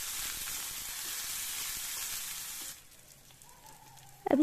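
Sliced onions, green chili and garlic fry in a pan with a steady hiss that cuts off sharply partway, leaving a quiet room hum and a short clatter at the end.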